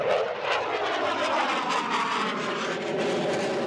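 A Rafale fighter jet of the French air force taking off, a loud, steady roaring jet blast with broad rushing noise that holds level for a few seconds.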